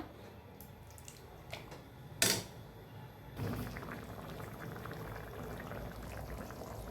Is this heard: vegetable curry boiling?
yes